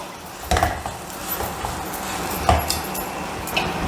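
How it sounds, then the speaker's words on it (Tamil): A spoon stirs grated dry coconut into a dry fruit mixture for an energy bar snack, giving close, soft scraping with a few light clinks against the bowl. "இப்போது இதை நல்லா கிளறி விடணும்"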